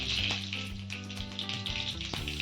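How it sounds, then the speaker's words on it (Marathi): Mustard seeds crackle and pop in hot oil in a kadai, a loud, dense sizzle with rapid sharp spits close up. "त्यामध्ये टाकूया मोहरी मोहरी छान तडतडते"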